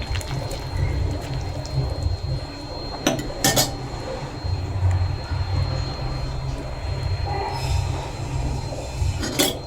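Tom kha gai soup ladled into bowls at home, with a few sharp clinks of ceramic and utensils scattered over a steady low kitchen rumble.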